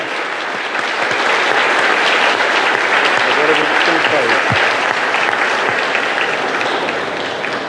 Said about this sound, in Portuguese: eu solicito uma calorosa salva de palmas para os